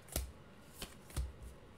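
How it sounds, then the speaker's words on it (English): Yu-Gi-Oh trading cards being shuffled by hand in three or four quick, soft riffling bursts separated by brief pauses, close and quiet. "Okay, so two and shuffles."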